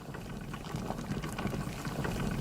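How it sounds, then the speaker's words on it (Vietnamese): Shrimp boil in a pot of water on an automatic cooker, a constant close bubbling and seething hiss with dense small pops, alone and steady throughout. "Và mình sẽ cho tôm vào luộc."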